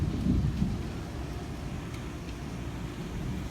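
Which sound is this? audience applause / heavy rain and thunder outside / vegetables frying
heavy rain and thunder outside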